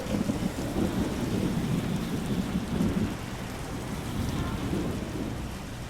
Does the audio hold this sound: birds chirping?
no